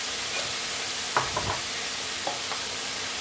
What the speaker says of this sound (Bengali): এখন একটু জল দিয়ে দিচ্ছি, কারণ মশলাগুলো দিলে পুড়ে উঠবে